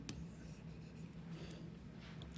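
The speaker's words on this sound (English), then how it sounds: "I just want to write this down" Pen or pencil scratches faintly on paper as notes are handwritten during a chemistry lesson, a soft continuous scribble close by with no talking.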